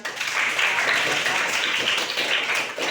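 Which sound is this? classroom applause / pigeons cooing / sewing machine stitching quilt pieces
classroom applause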